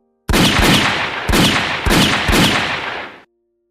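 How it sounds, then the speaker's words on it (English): Gunfire in a historical dramatization of Emiliano Zapata's ambush at Chinameca, several loud close volleys of shots in quick succession, each burst decaying into the next, ending sharply. "Gunfire tore through the air."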